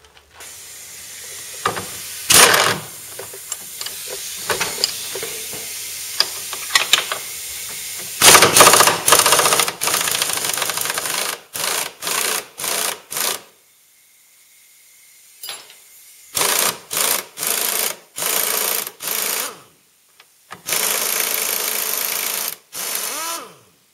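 Bursts of air-tool hissing and rattling, with short pauses between them, come from work loosening the bolt that holds a car's suspension control arm to the engine subframe with a 17 mm wrench. A leaking air hose is also present.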